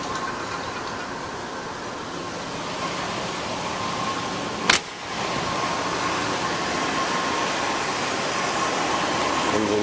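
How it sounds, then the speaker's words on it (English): A steady, rumbling 5.0-liter V8 engine of a 1983 Oldsmobile Cutlass Calais idles continuously, with a single sharp click partway through and no talking. "Engine runs strong, sounds very good."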